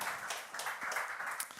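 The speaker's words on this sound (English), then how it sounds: "A big clap." An audience at a healthtech incubator kick-off ceremony claps, giving a soft, steady, fairly distant spatter of applause that lasts the whole short moment, with no speech.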